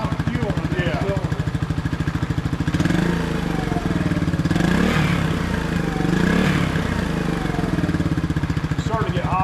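A 1999 Suzuki DR200 air-cooled single-cylinder engine running close by, a steady rapid putter with a few swells of throttle, and people talking over it.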